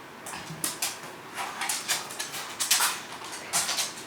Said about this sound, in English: Please ignore my dog walking around, but she's kind of crazy.